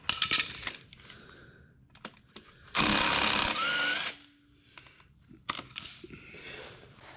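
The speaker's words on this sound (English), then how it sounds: "I'm going to get all these flex plate bolts off, so the flex plate and the torque converter are separated" Socket wrench and metal clatter while removing flex plate bolts from a Honda Prelude automatic transmission in a garage: sharp ticks and knocks with a louder sustained burst of tool noise in the middle, close by.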